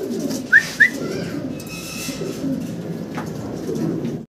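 Pigeons at a pigeon farm: two short, clear bird calls close together near the start, over a steady low murmur of background noise.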